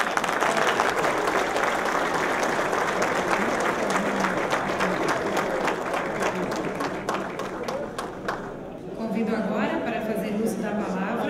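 Audience applauding a minister at a Telebrasil telecommunications conference opening, with sustained dense clapping that eases off briefly near the end and then picks up again, with voices mixed in.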